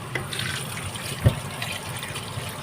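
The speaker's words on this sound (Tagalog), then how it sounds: "Habang hinugasan natin ang ating isda." Water runs softly from a tap as fish is washed in a kitchen sink for a Filipino fish and fresh vegetable dish, a faint steady trickle with one brief knock near the middle.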